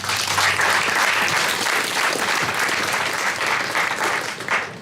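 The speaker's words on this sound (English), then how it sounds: "So we can give our staff a round of applause, please." Sustained audience applause fills a hall at a State of the City address as the crowd claps for city staff, a dense, steady roar of hands lasting several seconds and tapering slightly at the end.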